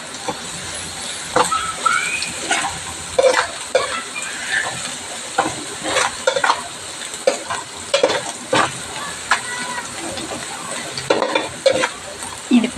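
Ginger paste fries loudly in a pan and is stirred in repeated brisk scrapes, a bright sizzling hiss running continuously beneath the irregular spatula strokes.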